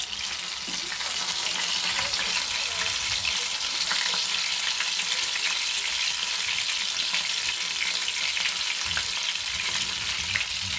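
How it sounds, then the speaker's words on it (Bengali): Food fries with plenty of spice masala in a pan, a dense continuous sizzle with occasional stirring clinks, close and steady throughout. "মশলাটা বেশি করে দিয়েছি, দিয়ে ভাজছি"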